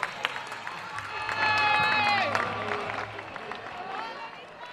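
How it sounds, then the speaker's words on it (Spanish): A crowd at a carnival proclamation and burning ceremony in Puerto Real applauds and cheers in a brief swell, with a voice speaking through the clapping as it rises and then tapers. "Un fuerte aplauso para la Jartible."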